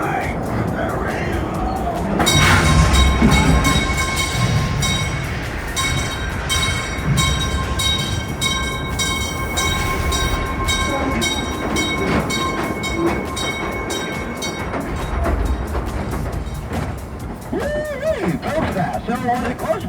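A mine train roller coaster at Knott's Berry Farm rumbles and clatters along its rails, a loud, continuous rolling roar with a ringing tone in the middle, while people talk and call out over it.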